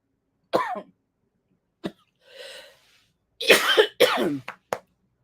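Several separate coughs, some sharp and single, others in quick bursts, close to the listener with quiet pauses between them.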